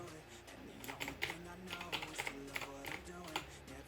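Quick irregular keystrokes on a computer keyboard, close and fairly faint, clicking in uneven bursts with a voice speaking softly underneath.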